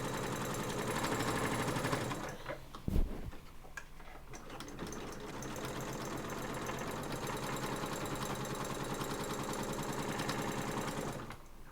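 Sewing machine stitching the fabric strap of a cross body bag, a steady rapid mechanical whir with a brief pause and a few clicks near the start, then continuous running to the end, close and alone.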